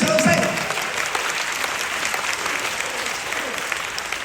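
An audience claps steadily for a children's dance class at a ballet school, a dense, lively burst of applause that starts strongest and holds evenly for several seconds.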